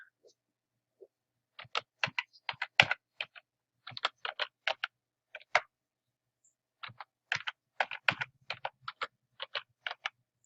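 Typing a password on a computer keyboard, sparse clusters of crisp, close key clicks in irregular bursts with short silent gaps between them, and no voices.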